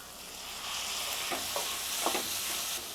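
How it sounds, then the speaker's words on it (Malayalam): Small onions and tomatoes sautéing in a pan for brinjal curry, a dense continuous sizzle with a couple of soft stirring scrapes, close and alone. "ഇനി ഇത് നല്ലതുപോലെ വഴറ്റിയെടുക്കാം"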